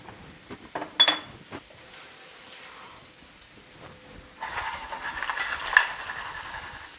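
Garlic and parsley fry in a pan and get stirred, making a soft sizzle broken by a few sharp utensil scrapes and clinks, then a louder, busier crackle in the second half, with no talking.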